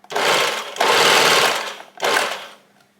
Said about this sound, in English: And especially when you're sewing the cuffs,